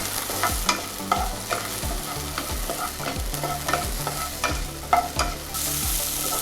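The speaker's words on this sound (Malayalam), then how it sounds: "Green peas വഴറ്റണം." Frozen green peas sautéing in hot oil in a pan, a steady sizzle broken by regular scraping strokes of a stirring spoon, close and alone with no voices.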